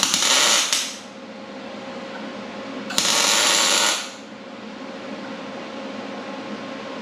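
A pedal base plate is welded in two short, loud bursts of harsh buzzing arc, each lasting about a second. A steady hum fills the gaps between them, up close in a workshop.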